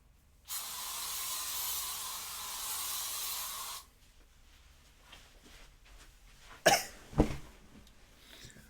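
A single sustained hiss of an aerosol spray lasting about three seconds, followed by quieter rustling and a couple of short sharp knocks.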